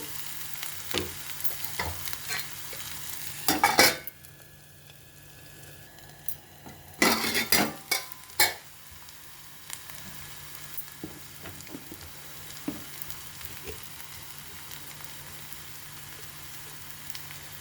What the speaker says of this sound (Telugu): అల్లం వెల్లుల్లి పేస్ట్ పచ్చివాసన పోయే వరకు వేగించుకోవాలి